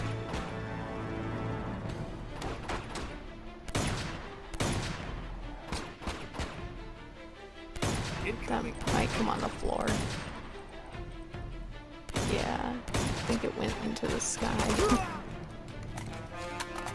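Gunfire in Uncharted 2: Among Thieves, with repeated bursts of shots and impacts arriving in clusters over game sound, and a voice talking at times between the bursts.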